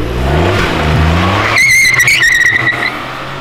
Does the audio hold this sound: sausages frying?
no